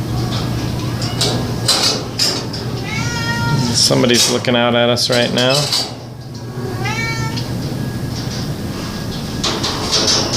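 Cats in a shelter colony room give several drawn-out meows close by, under a person talking over a steady background hum.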